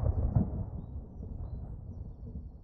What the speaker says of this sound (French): Il y a une tempête qui se prépare.